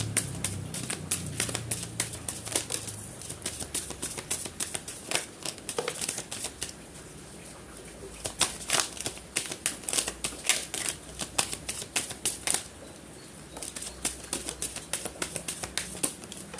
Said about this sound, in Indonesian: Kita akan shuffle kartunya.